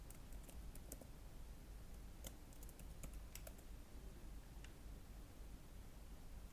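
Fingers tapping a computer keyboard in quick irregular bursts of soft clicks, entering a username, faint and close over a steady hiss with no talking.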